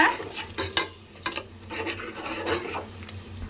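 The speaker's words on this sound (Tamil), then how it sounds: "இதை ஆட் பண்ணிவிட்டு நல்லா மிக்ஸ் பண்ணிகிட்டே இருங்க" Ginger garlic paste is stirred as it fries in a pan for a tomato rice dish, with a spoon scraping and clinking against the metal over a soft steady sizzle, close up and without voices.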